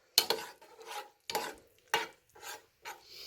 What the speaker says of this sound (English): So I'm going to stir it up.